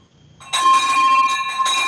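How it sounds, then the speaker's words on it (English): A hand bell rings loudly and steadily after a brief quiet start, its bright metallic ringing sustained close by. "Ring that bell, please."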